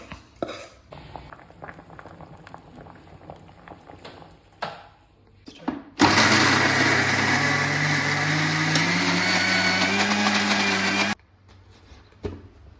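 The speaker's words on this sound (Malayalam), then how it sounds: "ഇനി മിക്സിയിലേക്ക് ഇടുവാണേ മിക്സിയിലിട്ട് നമുക്കത് അരയ്ക്കണം" A mixer grinder whirs loudly for about five seconds, grinding dry roasted spices without water, with quieter kitchen clatter before and after.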